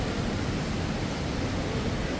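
Water rushes steadily inside a huge cave in Nepal, likely from a waterfall or stream below, a dense, continuous roar with no breaks and no voices.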